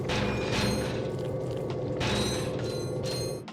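A dense, loud mechanical whirring with creaking, ratcheting texture from a weapon sucking up and shooting out enemies in the Ratchet & Clank video game, steady throughout and fading at the very end.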